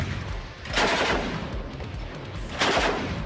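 A 14.5x114 mm anti-tank rifle fires in the video game DMZ: two loud, broad booming shots about two seconds apart, each followed by a rumbling tail, with no talk.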